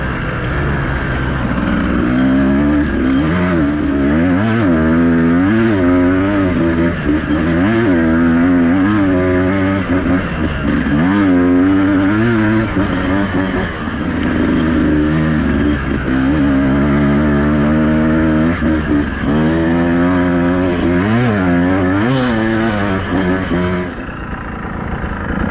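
Beta 200RR two-stroke dirt bike ridden along a track, its engine loud and close throughout, revving up and easing off in repeated surges with a raspy, buzzing two-stroke tone and no talking.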